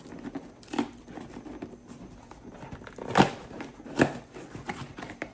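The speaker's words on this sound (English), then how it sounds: "I should be able to just open it up with my nails" Plastic packaging torn open with fingernails during an unboxing, scattered crinkling and scratching with a few sharper rips, close and alone.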